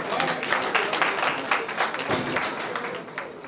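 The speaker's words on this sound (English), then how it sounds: "Nudgosa, let's give him a round of applause." An audience at an annual general meeting applauds, with dense, steady clapping that fills the whole stretch at fairly loud volume.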